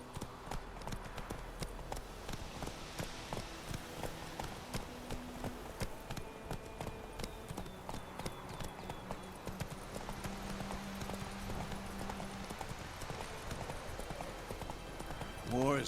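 Roach, the horse in The Witcher 3 video game, gallops with steady, rapid hoof clip-clops throughout, close and even. Game music and ambience run underneath.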